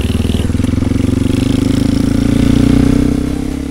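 A Yamaha WR250 motorcycle engine runs steadily right after its loose spark plug cap is fixed, a close, continuous mid-pitched putter that swells slightly in revs near the end.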